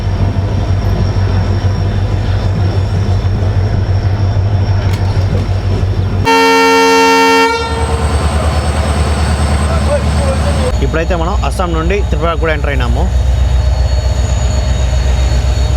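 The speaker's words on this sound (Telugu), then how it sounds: "చురాయి బారి నుంచి కూడా మన ట్రైన్ అయితే బయలుదేరిపోయింది" Agartala Express train 15664, running from Silchar to Agartala, rumbles loudly and sounds one long horn blast as it departs, followed by squealing and rattling as it moves, with someone talking over the noise.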